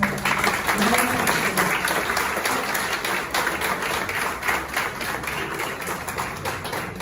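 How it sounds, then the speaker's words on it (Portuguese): Sustained applause from a crowd, dense steady clapping filling the whole stretch at a strong, even level. "Uma salva de palmas para nós."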